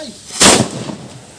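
A hand-pounded Thai bamboo rocket (bang fai) launches with one loud, close whooshing blast that flares briefly and then trails off into a low rumble.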